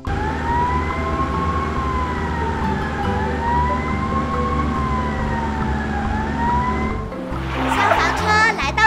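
Fire engine siren in a children's cartoon about a house fire, wailing continuously up and down in loud, repeated sweeps, then cut off as cartoon noise and voices take over.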